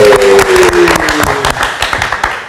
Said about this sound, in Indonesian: Tepuk tangan lagi dong buat Bung Erwin.